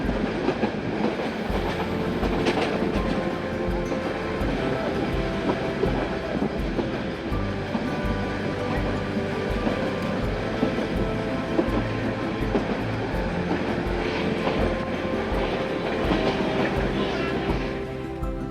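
The Haor Express intercity train from Dhaka to Mohanganj rumbles steadily with continuous clickety-clack of wheels on rails, a loud, close, sustained rolling noise throughout on a rainy night.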